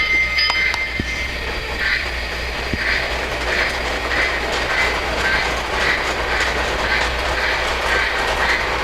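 Model ELF work train on the upper level of a layout runs steadily along its track with rhythmic clickety-clack wheel beats and faint metallic squeals, a continuous moderate rumble with a few sharp clicks early on.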